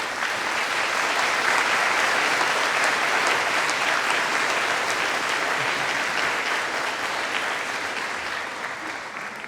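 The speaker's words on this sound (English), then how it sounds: "give a round of applause to all those who have supported you." Sustained applause from a large audience of graduates and guests at a University of Manchester graduation ceremony, dense steady clapping with no one talking, easing off slightly toward the end.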